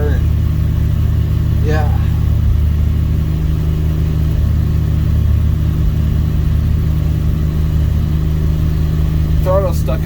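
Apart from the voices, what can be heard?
Dodge D100 truck engine running after a cold start at night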